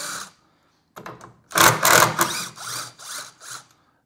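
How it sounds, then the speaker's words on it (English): An impact driver backs screws out of a wooden machine crate, firing in short whirring and hammering bursts, the loudest burst in the middle followed by several quicker pulses, close up with no talking. "I'm just gonna use this impact."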